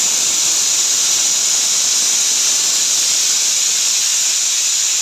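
Pressure cooker boiling whole masoor lentils, releasing a steady, loud, unbroken hiss of steam that runs alone and unchanging throughout.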